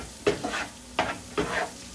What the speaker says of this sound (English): frying up the garlic, but you don't want to burn garlic, okay?